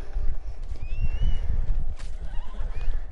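A horse in the game Red Dead Online gives a few high, wavering whinnies over heavy, rumbling hoofbeats and low background noise, close and fairly loud.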